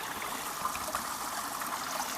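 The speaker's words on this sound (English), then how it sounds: "A nice little river here. For you guys who don't know how a German forest looks like, this is the Black Forest." A small river in the Black Forest in Germany flows steadily nearby, a continuous bright rushing and trickling of water with no talk.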